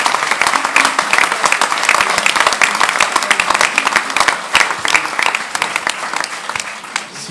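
Loud audience applause at a community farewell concert, dense sustained clapping from a large crowd filling the room without pause.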